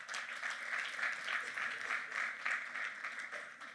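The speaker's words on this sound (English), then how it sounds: "please give another round of applause to Bk." Audience applause at an evening brand launch event, steady clapping from a modest crowd heard at a distance and fairly quietly, holding evenly for several seconds before tapering slightly.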